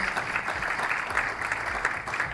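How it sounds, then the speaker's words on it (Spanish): A conference audience at a China–Colombia dialogue forum claps steadily, a dense even wash of applause at moderate level lasting the whole brief stretch, with no voices on top. "un aplauso, un aplauso"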